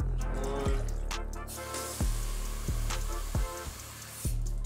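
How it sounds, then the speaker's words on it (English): Tap water runs into a cooking pot in a home kitchen, filling it with about three cups: a continuous close pour with small splashes and knocks and no talking. "we're just gonna fill this up, 3 cups of water"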